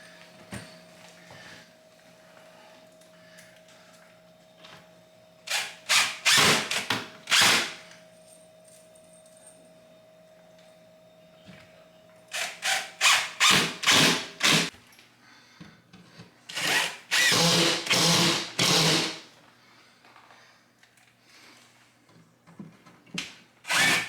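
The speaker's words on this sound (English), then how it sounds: "I'm gonna get this drywall screwed on there" A power drill driving screws into drywall, in separate bursts of whirring: a short run early, three or four quick pulses near the middle, a longer burst later, with quiet handling gaps in between.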